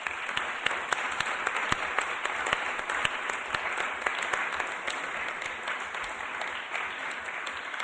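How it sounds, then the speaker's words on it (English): At an annual council meeting, the room gives a round of applause, a moderate, steady patter of many hands with a few crisp claps poking through, gradually easing off. "I think that deserves a round of applause for John's thanks."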